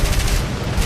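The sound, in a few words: aircraft gunner machine gun firing in War Thunder video game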